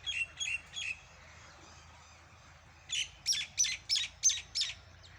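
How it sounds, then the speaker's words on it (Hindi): Birds call in the morning at a farmhouse, two bursts of sharp squawking chirps, a short group of three and then a longer run of six, close and clear over a quiet low hum. "सुबह सुबह चिड़ियों की चहचहाहट"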